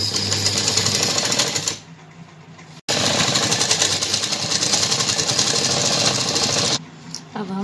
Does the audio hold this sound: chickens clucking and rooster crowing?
no